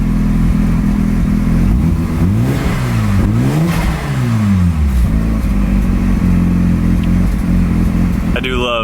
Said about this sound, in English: the way they sound, the way they rev